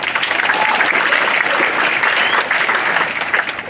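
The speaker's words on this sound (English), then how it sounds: "Would you please give them a big round of applause?" A large crowd gives a loud, sustained round of applause for faculty and staff at a 2022 high school graduation ceremony, dense clapping holding steady from start to finish.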